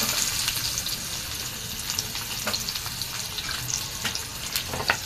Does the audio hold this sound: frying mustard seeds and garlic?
yes